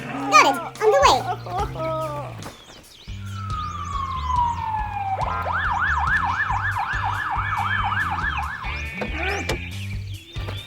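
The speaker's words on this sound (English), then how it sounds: "Call the ambulance." A cartoon ambulance siren in an animated children's farm-fire rescue scene begins as a descending wail, then rises and falls repeatedly and loudly over a bouncy musical backing, after opening musical notes.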